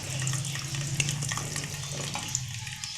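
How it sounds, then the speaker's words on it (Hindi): Onions fry in oil that was already used for frying potatoes. A steady, close sizzle runs throughout with faint clinks, and no one speaks. "प्याज को ऑयल में ब्राउन कर लेना है"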